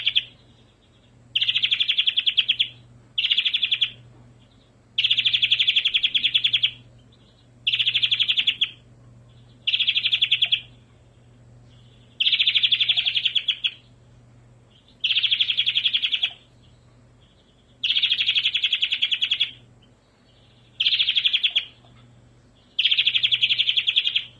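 A canary sings alone in repeated bright trilling phrases, each lasting a second or two, with short pauses between them over a faint background hum.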